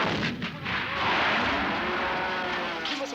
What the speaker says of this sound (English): an artillery unit provides cover